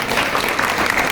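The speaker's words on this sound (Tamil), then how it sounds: "இருக்குன்னு சொல்றவங்க ஒரு கைத்தட்டல் கொடுங்க." Audience applause fills a spiritual lecture hall, a steady wash of many hands clapping at once, loud and sustained throughout with no break.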